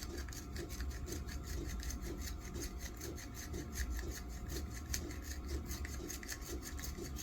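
A copper tube end being deburred with a hand tool, a close, rhythmic scraping and rasping with regular strokes, faint overall and with no one talking.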